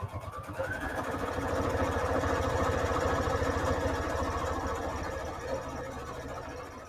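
A sewing machine stitching fabric strips onto a quilt runs in a fast, steady mechanical whir with a rapid needle rhythm, close and continuous.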